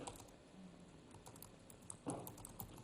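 Typing on a computer keyboard during a board meeting, a faint, quick run of small clicks and taps with one brief louder burst, heard alone in a quiet room.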